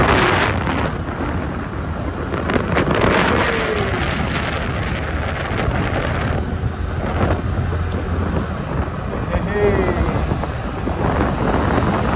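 Steady wind rushes and buffets across the whole stretch, loud and close, at the Sky Plaza hilltop viewpoint in Natividad, Pangasinan, with a few faint calls and brief voices in the background.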